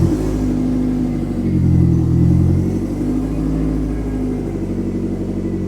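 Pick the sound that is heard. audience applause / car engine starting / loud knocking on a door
car engine starting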